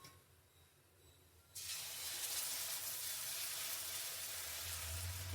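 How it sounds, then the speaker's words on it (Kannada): Protein dosa batter hits a hot pan and bursts into a loud, steady sizzle after a quiet start, the broadband hiss holding evenly to the end with no talking. "ಲಂಚ್ ಕಾಯ್ದಿದೆ, ದೋಸೆ ಹಾಕ್ತೀನಿ ಹಾಗೆ."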